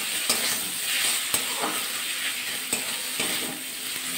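Spice masala for egg curry frying in a pan while being stirred, with steady close sizzling and a few sharp spoon scrapes and clicks against the pan.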